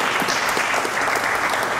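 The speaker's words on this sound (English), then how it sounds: "Big round of applause" Fifth graders at a school assembly receive loud, dense applause from the audience, a continuous close crackle of many hands clapping with no talk over it.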